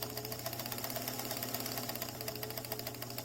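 A sewing machine straight-stitches a channel along a fabric instrument bell cover, its needle hammering out a fast, steady mechanical rhythm close by, with no talking.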